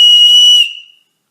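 A whistle built into a fake pocket knife gives one loud, shrill, pure tone held for about half a second, then it cuts off and fades quickly into silence.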